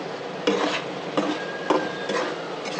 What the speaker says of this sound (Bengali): এখানে একটু নাড়াচাড়া করে দিতে নাড়াচাড়া করে দিলে ভালো মতো অলরেডি কিন্তু সিদ্ধ হয়ে গেছে